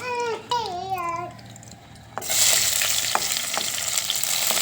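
Onion dropped into hot oil after coriander on a wood-fired stove, breaking into a loud, steady sizzle after a brief quiet spell, preceded at the start by a baby-like crying voice.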